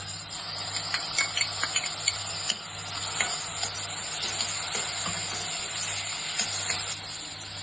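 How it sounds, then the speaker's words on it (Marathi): Onions frying in a pan for a Maharashtrian mushroom masala, a steady close sizzle and hiss with occasional stirring scrapes and a low hum underneath, no voices. "आता हे कांदो चांगलं गोल्डन ब्राऊन झालो की आपण त्याच्यात घालूया टोमॅटो"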